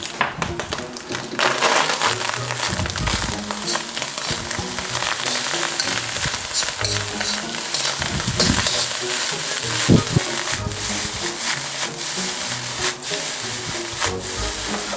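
Prawn fried rice sizzles and crackles in a hot wok, tossed and stirred with constant frying noise and scattered scraping clatter, close and moderately loud, with no talking.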